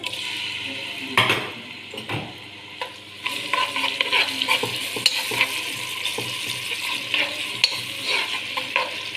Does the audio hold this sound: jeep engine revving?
no